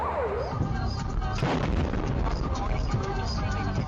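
Heavy booming explosions in the Russian city of Belgorod rumble through a noisy, chaotic scene, with several deep thuds and bursts overlapping at moderate distance.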